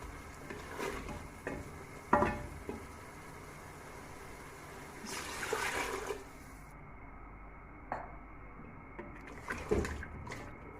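Water splashes and gurgles into a mutton karahi pot amid sizzling and stirring, with intermittent clatter and louder pouring bursts, no talking.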